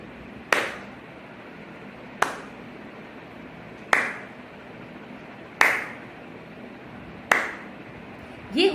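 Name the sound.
hand clapping a rhythm in equal gaps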